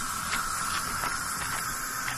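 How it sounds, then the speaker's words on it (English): A steady hiss of bug spray running continuously for a couple of seconds, close by, with faint pulsing bursts and no voices. "Parker, bug spray?"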